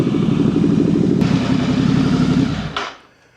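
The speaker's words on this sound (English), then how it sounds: "just start it up for probably about 3 to 5 minutes just to get it a little bit warm" A Royal Enfield 650 Interceptor engine idles close up as it warms, a steady low rumble that cuts off abruptly near the end, leaving near silence.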